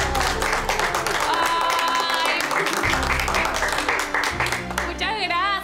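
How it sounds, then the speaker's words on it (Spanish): Applause from a crowd at a salon spa award moment, a sustained wash of clapping running under someone speaking and cheering throughout. "¡Aplausos!"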